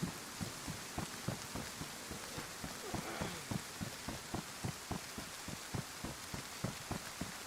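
Steady rainfall in the survival game DayZ, a soft even hiss with a regular train of faint, sharp ticks running through it, quiet and with no voices.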